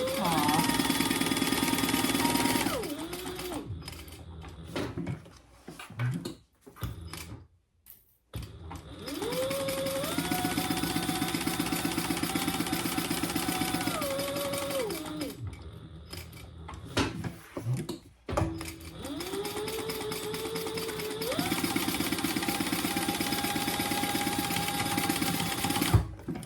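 A sewing machine stitching a clutch organizer wallet, its motor whirring in long continuous runs with speed changes and short pauses between seams, close and steady.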